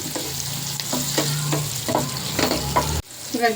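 Capsicum and onions fry in a hot pan with a loud, close, continuous sizzle, broken by several sharp scrapes and clinks of a spoon stirring the vegetables; a brief pause comes near the end before stirring resumes.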